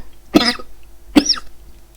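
A person with a sore throat coughs twice, two sharp, close, fairly loud bursts about a second apart, with no talking.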